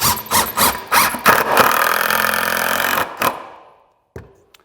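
A power drill whines as it pre-drills wood for screws on a miter saw stand base, several short bursts followed by a long sustained run that stops abruptly, then faint handling clicks.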